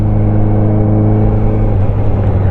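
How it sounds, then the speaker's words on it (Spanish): A Honda CB650R four-cylinder motorcycle with a full-system exhaust, its engine droning at a steady, loud, smooth rumble close by while riding, with no talk over it. "El sonido de la moto es el sonido que te da un tetracilíndrico,"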